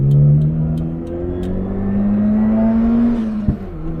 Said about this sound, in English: Responds really well to rev matching as well.